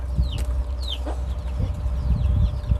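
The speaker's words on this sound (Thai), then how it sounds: "ไก่เนาะ" Chickens clucking: several short clucks and chirpy calls from nearby fowl over a steady rumbling background, with no talk.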